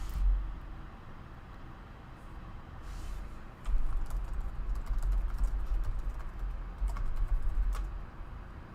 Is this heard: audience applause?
no